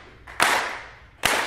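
A seminar audience claps in unison. Two sharp, reverberant group claps land about a second apart, and a roomy echo trails after each one in the hall.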